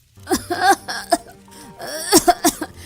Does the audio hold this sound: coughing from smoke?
yes